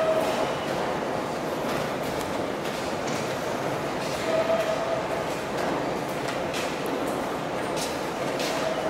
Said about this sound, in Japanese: 地下鉄11番線